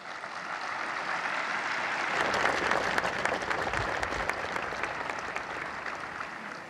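An audience applauds at Korea's 72nd Police Day ceremony, a dense wash of clapping from a large crowd that swells in the middle and then holds steady, with no voices over it.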